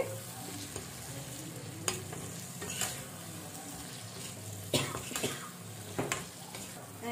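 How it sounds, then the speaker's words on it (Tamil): Fried dry fish stirred into masala in a pan for a village-style dry fish dish, a sizzle under several sharp spoon scrapes and knocks against the pan, close by. "இப்படி நல்லா நம்ம கருவாடை போட்டு நல்லா கிண்டிட்டு"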